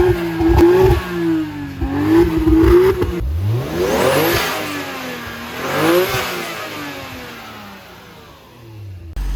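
An old Toyota or Nissan car engine runs and revs nearby, its throaty exhaust note rising and falling in repeated swells before settling toward idle.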